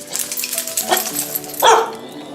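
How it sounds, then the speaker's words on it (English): A dog barks once, close by, over a steady background hum and faint clatter, with a softer yelp a moment earlier. "that's where that barking comes from"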